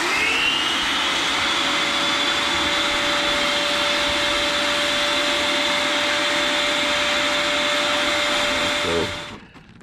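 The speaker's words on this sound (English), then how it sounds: "once it's pretty good and warm, then I'll hit the vacuum." A vacuum runs on a homemade vacuum forming box for shaping stencils, a steady loud whine and rush holding for several seconds before cutting off abruptly at the end.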